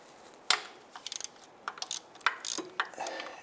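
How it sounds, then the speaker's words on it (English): Ratchet fitted with a 16 mm deep socket working loose a starter bolt on a 2002-2008 Dodge Ram 1500, a quiet string of irregular clicks and metallic taps, close up. "Gonna use our ratchet. See if we can go ahead and break that free."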